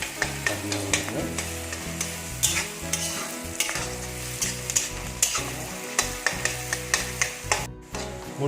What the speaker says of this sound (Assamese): এইখিনি ভালকৈ ভাজি ল'ব লাগিব।